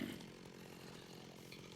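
A chainsaw runs in a modded Minecraft hard-mode game, giving a steady, continuous buzzing drone of moderate loudness that holds without a break for the whole stretch.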